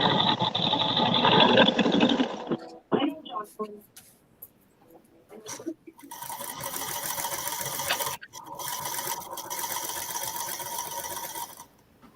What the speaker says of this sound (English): I love hearing the sewing machines running.